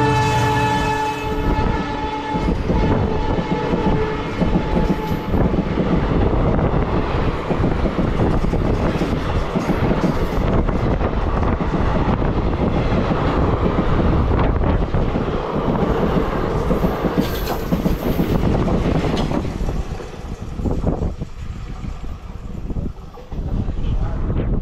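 The Nagaland Express, a Dibrugarh to Guwahati train, rolls into a station with a long horn blast at the start and a loud, steady rumble and clatter of wagons that eases toward the end.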